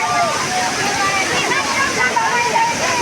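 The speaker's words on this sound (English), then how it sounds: "I reached the waterfall." Water pours steadily at Baudeshwor waterfall, a continuous close, loud rushing roar with splashing texture throughout and no pauses.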